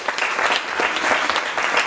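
Audience clapping after a talk at an evening event, dense steady applause filling the whole short moment, close and fairly loud.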